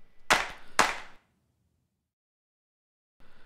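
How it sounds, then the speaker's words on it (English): Two sharp, bright drum hits in quick succession, a snare sample layered with a clap, each with a short decaying tail, followed by silence and then a quieter burst at the end. "We'll stick a clap on this last one."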